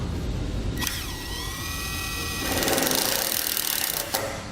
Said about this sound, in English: Today we'll be using a self-tapping screw.